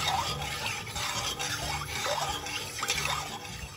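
Sugar being stirred into water in a pot on a gas stove for rasgulla syrup, heard as soft, continuous swirling and faint scraping at a low, even level.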